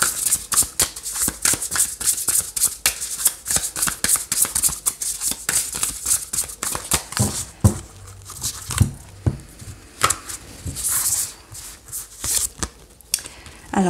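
Tarot cards are shuffled with a rapid papery riffling and flicking, then slapped down one by one in sharper, sparser taps as they are laid out, close and crisp with no voices.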